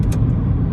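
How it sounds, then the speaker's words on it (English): A BMW 420d M Sport diesel engine during a gear change, a steady close engine drone with brief higher mechanical clicks near the start. "Now we've then got our gear changes, so I'm currently in 7th gear"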